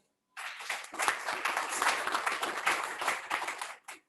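An audience applauding a panelist at a medical lecture on antihypertensive pharmacotherapy, a burst of dense clapping that starts abruptly, holds steady for about three and a half seconds, then stops sharply.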